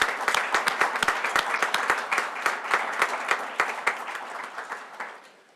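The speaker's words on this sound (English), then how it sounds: "So let's give that a round of applause." Scattered clapping at a TriMet board of directors meeting: a small group whose individual claps stand out as sharp distinct strokes, lively at first and then tapering off.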